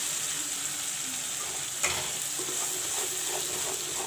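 Mustard, ginger and garlic paste fries in a pan for a village-style fish curry, hissing in a constant sizzle, with a single short clatter near the middle.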